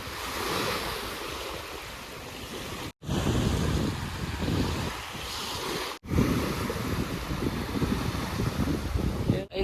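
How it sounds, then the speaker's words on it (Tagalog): Surf breaking steadily on a beach at sunrise, a broad continuous wash with wind noise on the microphone, running loud and even throughout with two brief dropouts. "So, ito yung dagat."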